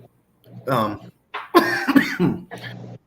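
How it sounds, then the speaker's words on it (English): A person on a livestream coughs in a few harsh, voiced bursts separated by short pauses, close and loud with a strained, throaty quality. "I can't stop this coughing"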